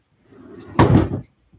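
A wooden drawer is pulled open in a craft room, a short sliding rumble ending in a louder thudding clunk, close and alone.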